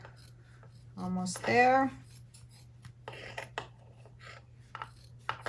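Scissors snipping fabric for a cat pod, several short crisp cuts and rasping rubs close up, with a brief spoken remark early on over a faint steady hum.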